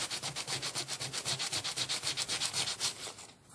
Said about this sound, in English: number 150 sandpaper here, 150 grit